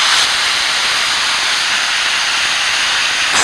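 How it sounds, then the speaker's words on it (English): A loud, steady roaring hiss of a ski-resort snow gun blasting snow at Sugarbush, continuous and close, like a jet engine, with no voices. "So now you know what a snow gun looks like and sounds like"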